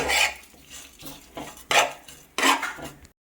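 Pan and utensil clatter while coconut is roasted in a home kitchen, a few distinct scraping and clinking bursts in a short series, fairly close and clear with no talking.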